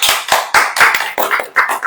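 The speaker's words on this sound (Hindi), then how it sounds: "तालियां नहीं बजाएंगे क्या?" A congregation claps with sharp, loud, closely spaced hand claps in an irregular, lively rhythm, close by and with no talking over them.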